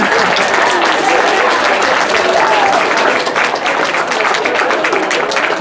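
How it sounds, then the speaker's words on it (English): Steady, dense applause from an audience honoring volunteers at a wildlife event, loud and continuous throughout with a faint murmur of voices mixed into the crowd. "maybe we could just do a round of applause for the volunteers"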